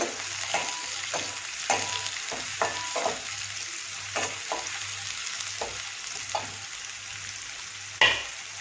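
Potato and cauliflower pieces sauté in a pan, with a steady sizzle broken by regular spatula scrapes and knocks about once a second and a sharper clack near the end. No one talks.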